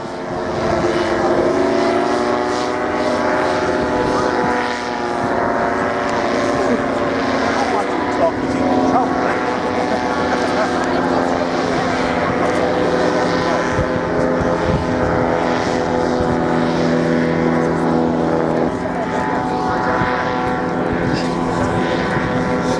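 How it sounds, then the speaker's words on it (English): A Pawnee tug aircraft tows a glider up to height at the Shoreham airshow, its propeller engine droning loud and steady throughout, with faint commentary beneath. "Whilst the glider climbs to height following its Pawnee tug"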